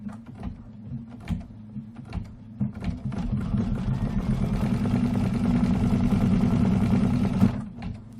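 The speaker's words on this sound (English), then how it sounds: "Put the foot down and stitch it out right in that little section." A Kimberbell embroidery sewing machine stitches out a small section of a pillow wall hanging, its motor running in a steady, loud mechanical whir with rapid needle rhythm after a few brief starts.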